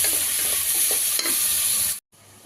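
Chopped tomatoes fry in a pan for a Telangana-style cucumber curry, a steady close sizzle with a few soft stirring scrapes before it cuts out abruptly near the end and returns quietly.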